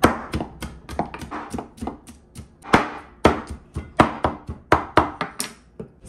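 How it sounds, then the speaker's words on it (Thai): A knife chops salmon sharply and repeatedly on a cutting board, crisp close thuds in an uneven but brisk rhythm, with no talking. "สับเหมือนปลาดุกเลยค่ะมันจะสับง่าย"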